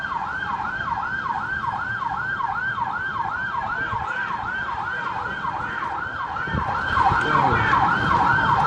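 A loud wailing siren sweeps up and down in a steady, fast repeating cycle, with traffic rumble underneath that grows heavier toward the end.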